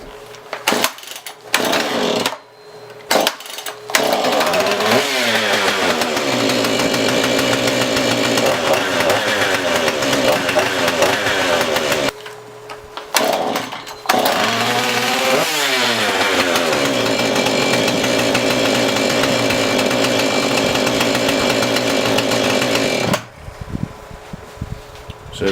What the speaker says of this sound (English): we're going to go ahead and try to crank the saw